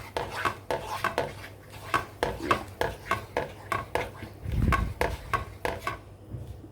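A utensil scrapes and knocks rhythmically against a pan while sugar syrup is stirred over a gas flame, a quick regular series of close clacks with a brief low rumble partway through.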